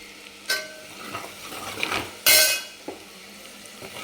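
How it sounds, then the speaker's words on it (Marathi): Red chili powder fries briefly in oil in a pan, a low sizzle punctuated by several sharp spoon-on-metal clinks and scrapes, one louder burst midway, with no talking. "एक चमचा लाल तिखट आहे तर छान ह्याला तेलामध्ये परतून घ्यायचं"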